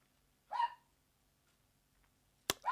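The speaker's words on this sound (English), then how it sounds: "I wish that dog had stopped barking." A dog barks twice in a quiet room, one sharp yip near the start and another after a short pause, with a crack just before the second bark.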